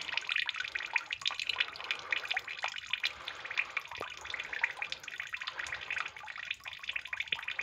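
Water from an opened valve trickling and splashing into an outdoor triops aquarium, a steady bright babble with scattered drips, close and unbroken.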